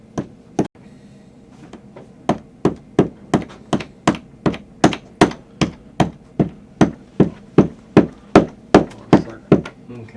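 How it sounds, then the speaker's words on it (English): Steady, evenly spaced hammer taps driving in a tack, about twenty sharp metallic knocks in a row, close and fairly loud after one early single strike. "So he's going to use the hammer end of his hammer. Thumb it in as much as he can."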